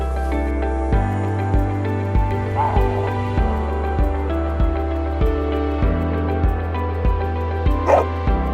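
A pack of African wild dogs yips and barks in short, regular calls over a low rumbling background, with occasional higher squeals near the end.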